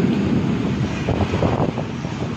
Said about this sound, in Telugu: విపరీతమైన వర్షము, గాలి